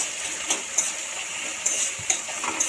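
Tomato and ginger fry gently in a pan over a low flame, giving a steady soft sizzle broken by a few light clinks of a spoon against the pan.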